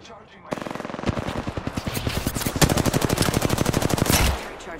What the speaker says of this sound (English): Firing. I'm taking shots.